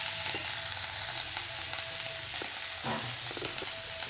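Whole baby potatoes fry in a pan with a steady, close sizzle and occasional stirring scrapes, with no voices.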